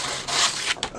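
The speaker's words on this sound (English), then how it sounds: "I can scrape that out with a piece of metal, file, something." Residue built up on the starter contacts of a 1980 Ford Thunderbird being scraped off with a file: a close, continuous rasping scrape with brief breaks between strokes.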